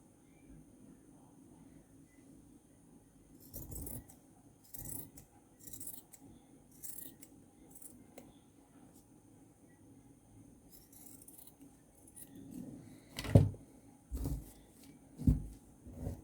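Scissors snip through fabric while a kids' frock is cut out, giving a few sparse, quiet cuts spaced across a hushed room, with louder closer snips near the end.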